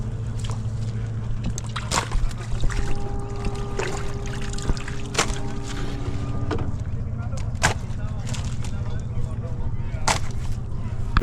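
A motor fishing boat loaded with fish comes in on the Pahuj River near Jhansi, its low engine drone steady throughout, with a few sharp knocks and splashes nearby.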